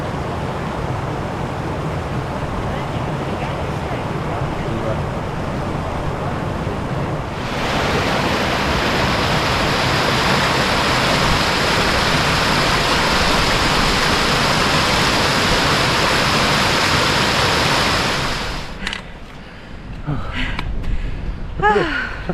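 Strong cold wind on Kinder Scout moorland buffets the microphone in a loud continuous roar that intensifies midway, then drops away near the end, leaving brief rustling.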